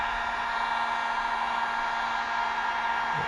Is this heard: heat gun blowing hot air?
yes